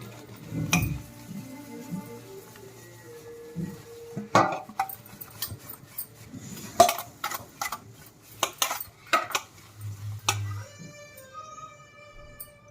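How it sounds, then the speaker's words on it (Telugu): A plate is washed by hand with dishwashing liquid, giving scattered clinks and knocks of crockery and utensils with soft scraping between, fairly quiet and close, without talk. "ఇదిగోండి ఇప్పుడు ప్లేట్ తీసుకున్నాను ఆ లిక్విడ్తోనే క్లీన్ చేసుకున్నాం"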